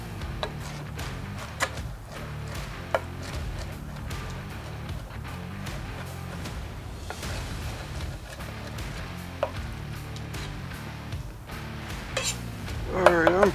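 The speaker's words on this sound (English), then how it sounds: "we're just going to chop this stuff up to where it's nice and fine" Shrimp being chopped fine with a rocking knife on a cutting board, giving steady repeated knocks and clinks of the blade against the board and dishes, fairly quiet and close.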